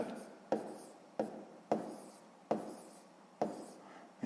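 Close, crisp pen strokes on paper as a product's digits are written down, with six distinct taps and scratches at a steady pace and no talking over them.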